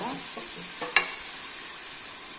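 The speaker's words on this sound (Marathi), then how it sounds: "आता या तुपावर आपल्याला हा किस छान असा परतून घ्यायचा आहे।" Grated mango sautéing in melted ghee in a pan, a steady soft sizzle with a few scraping stirs and one sharp clink of a spoon against the pan, close up.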